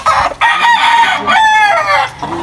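Molting roosters crow loudly and repeatedly in a backyard, long wavering calls overlapping one another close by, with a few clucks in the gaps.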